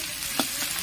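Fish frying in hot oil sizzles with a steady hiss, broken by one brief spatter of sharper crackle near the middle, close and at moderate level.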